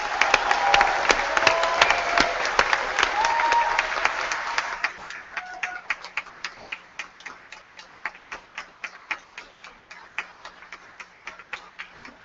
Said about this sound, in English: Please join me with a warm round of applause for these graduates.